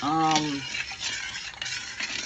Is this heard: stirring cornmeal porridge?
yes